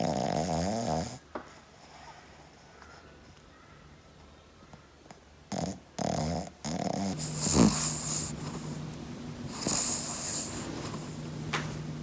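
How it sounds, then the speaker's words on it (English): A pug and cavalier mix puppy snoring, with soft snorts and wheezy breaths drifting up close and fairly quiet, broken by a few short gaps and louder snuffling bursts near the end. "I guess what their snoring sounds like"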